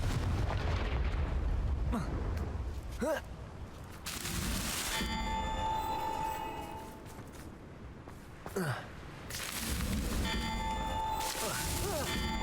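Confringo, an explosive spell cast in the Hogwarts Legacy video game, sets off a series of booming blasts and fiery bursts over continuous game music and effects, with a few sharp whooshing flares between them.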